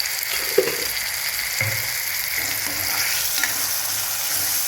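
Tomatoes fry in a pan with a pinch of salt, a steady sizzle running throughout with a few scraping stirs of a spoon, close and fairly loud, no voices.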